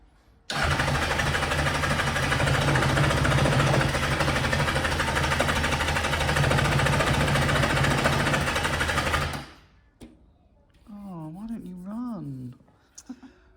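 Kawasaki Zephyr 750 motorcycle engine turning over and running loudly for about nine seconds with a rough, steady mechanical drone, then cutting off, followed by a brief voice.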